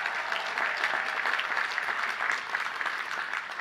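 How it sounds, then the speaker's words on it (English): Steady applause from a large commencement audience at the City College of New York's 2023 ceremony, a dense, even patter of many clapping hands sustained at moderate loudness throughout with no talk over it. "Let's have a round of applause for them as well."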